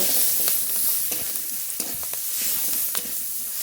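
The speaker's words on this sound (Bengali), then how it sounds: "বাকি মশলাগুলো সব দিয়ে দেবো লবণ হলুদ গুঁড়ো এবার ভালো করে ভেজে নেব" Spices fry with salt and turmeric powder in a kadai of oil after cumin, giving a close, steady sizzle broken by scraping and clinking stirring strokes, with no voices.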